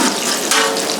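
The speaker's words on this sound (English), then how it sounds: "the sound of the fish has gone from a raging bubbling to like a soft, like rolling boil" Striped bass pieces simmering in a curry sauce at a soft rolling boil, a steady, close bubbling hiss that runs for the full second with no talk.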